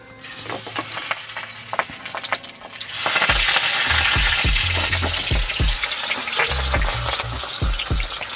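Leaves from a traditional Maharashtrian vadi recipe dropped into hot oil burst into a loud, close sizzle that swells suddenly and keeps crackling and popping steadily, with no talk.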